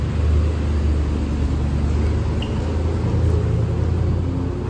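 A McLaren sports car rumbles nearby at a car meet in Cape Town, a steady low engine drone with no talking over it.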